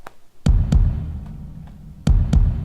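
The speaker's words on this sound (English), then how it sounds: "you could probably hear those pretty massive and boomy sounding kick drums" Deep, booming kick drum hits, layered and heavy, made in FL Studio, landing in two pairs with a short gap between them, loud and alone.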